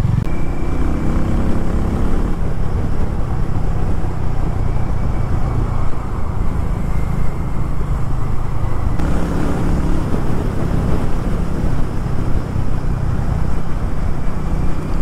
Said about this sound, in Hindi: एक बेसी एग्जॉस्ट है जो कि आपको राइड करने में मजबूर करती है